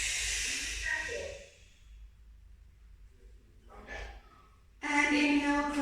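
A breathy hiss of exhaled air during a Pilates exercise, followed by quiet, then a softer breath and a louder voiced segment near the end, close to the microphone.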